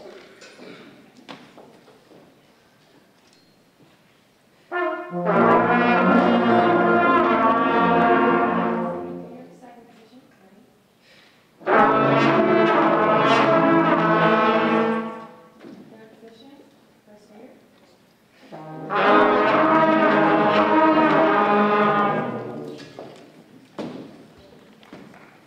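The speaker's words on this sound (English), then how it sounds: "We did this through lip slurs, and they sound like this." A school band brass player runs lip slurs on a single fingering: three sustained tonal phrases, each shifting smoothly between notes, separated by short quiet gaps with faint background noise.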